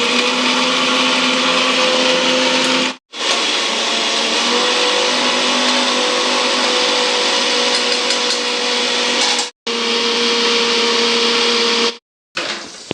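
A mixer grinder whirs loudly and steadily, grinding masala for a gongura mutton curry in three continuous runs of about three, six and two and a half seconds, each separated by a brief stop.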